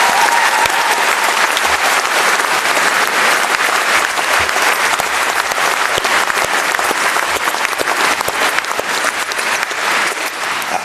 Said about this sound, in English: Please give her a applause.